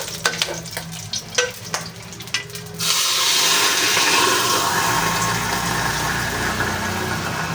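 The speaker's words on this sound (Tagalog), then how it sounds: "dito na rin po tayo magigisa ng ating mga bawang at sibuyas" Garlic and onion hit hot oil in a pan for sautéing, a few sharp clinks and taps first, then a sudden loud sustained sizzle that continues steadily and close up, no talking.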